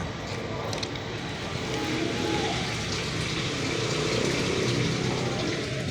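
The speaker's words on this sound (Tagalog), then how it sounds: "Ito yung bar screen natin na bagsakan yan ng ating tubig" Water pouring down onto the bar screen of a sewage treatment plant, a continuous close rushing gush with a faint voice briefly under it.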